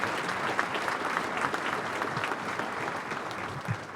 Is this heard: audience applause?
yes